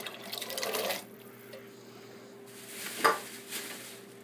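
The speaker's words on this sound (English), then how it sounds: "Then I'm going to add the 2 cans of the garbanzo beans with the juice." Two cans of garbanzo beans poured with their liquid into a cooking pot, a wet splashing pour near the start followed by a close metallic knock and brief sloshing as the cans empty.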